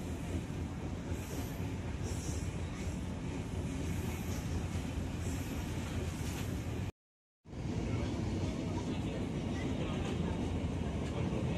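Singhasari passenger train with a vintage-livery locomotive running on double track near Bekasi, heard from inside as a loud, steady rolling rumble with faint wheel squeal, briefly cut out mid-way; a voice talks over it.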